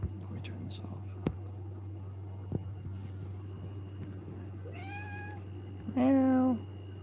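A house cat gives two clear meows near the end, the second louder and longer, after a stretch of quiet hum and soft whispering talk.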